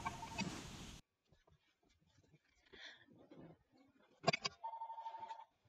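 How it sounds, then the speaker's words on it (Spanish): A phone rings during an online geometry class, a short burst of electronic ringing at the start, then faint room noise and a brief clatter before a repeating tonal beep pattern near the end. "Otra vez está sonando mi teléfono"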